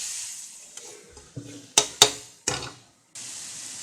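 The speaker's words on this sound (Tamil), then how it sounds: "நல்லா வதக்கி விடுங்க." Tomato and curry leaves being sautéed in a pan for cauliflower dosa, a steady soft sizzle broken by several sharp scraping stirs of a spoon against the pan, close and with no talking.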